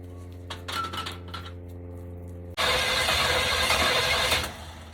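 A 1965 Cadillac hearse engine is cranked after brake cleaner is sprayed in, with a steady low mechanical hum and light clinks, then an abrupt jump to a loud, sustained broadband roar that fades slightly near the end.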